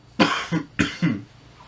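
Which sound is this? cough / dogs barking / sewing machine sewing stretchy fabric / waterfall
cough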